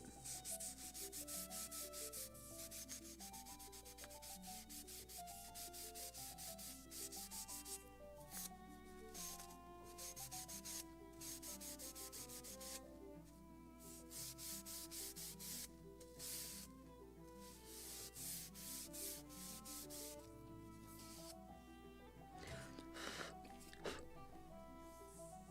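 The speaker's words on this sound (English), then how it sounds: "And sand it." Sandpaper rounds the edge of a basswood part for a Model Shipways kit of the 1776 gunboat Philadelphia, giving a steady, close rubbing hiss with background music throughout.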